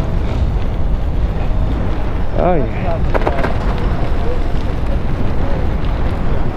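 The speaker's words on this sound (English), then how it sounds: "Hopefully that wind's not bothering you." Heavy wind buffets the microphone in a constant rumbling roar on a bike path at Zwick's Park, Belleville, Ontario, in January, with a voice briefly speaking underneath.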